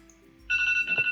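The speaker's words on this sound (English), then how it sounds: "that's my alarm telling me to wake up and make a video." A phone alarm ringtone starts abruptly and rings loud and close, a bright repeating electronic melody playing alone for about a second.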